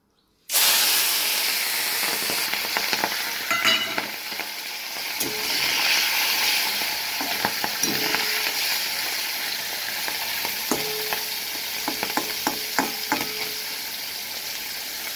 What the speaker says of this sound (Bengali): তেলটা গরম হয়ে গেছে, এবার মাছগুলো দিয়ে দেবো।